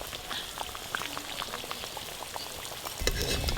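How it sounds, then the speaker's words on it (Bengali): Large potato chops fry in hot oil, giving a continuous close sizzle with scattered crackles and pops that grow a little louder near the end. "এই চপগুলো ভাজা হয়ে গেল।"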